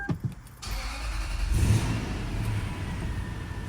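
A high-mileage car with 212,000 miles cranks briefly, then catches and settles into a steady, moderately quiet idle.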